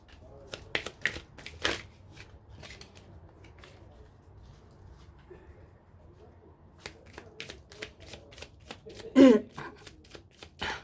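Tarot cards shuffled and drawn by hand, with soft close riffling and flicks in bursts, a quiet pause in the middle, then more quick card snaps.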